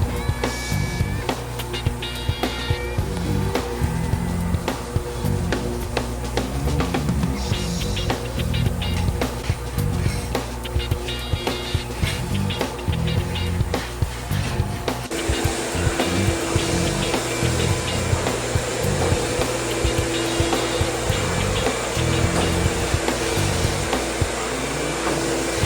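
A floor scrubber sucks up dirty water from a greasy, grimy VCT floor, giving a steady loud whine and rushing suction with clattering and rattling. The tone shifts partway through and then holds even.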